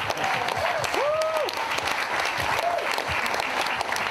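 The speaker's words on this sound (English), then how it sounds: "Once again, big round of applause for Alec, everyone." A wedding reception crowd claps steadily and loudly, with whoops and a few cheering voices rising above the applause.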